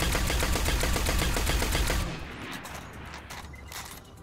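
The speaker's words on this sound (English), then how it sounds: "So here's how fast the Suros fires, either from a hipfire or before you actually upgrade the gun." Rapid automatic fire from the SUROS Regime rifle in the video game Destiny, fired from the hip before upgrading: a loud, dense, steady burst of shots that stops abruptly about halfway through, leaving quieter game ambience.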